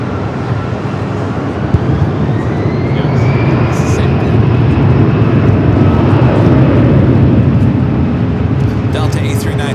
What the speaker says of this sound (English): Delta A319 now rocking and rolling down the 24 left.